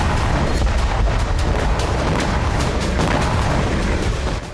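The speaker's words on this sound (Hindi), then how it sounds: "हूती ने दागी मिसाइल" A Houthi missile launch comes through as a loud, continuous roaring rumble with dense crackling bursts, heavy and sustained across the whole stretch before easing slightly at the end.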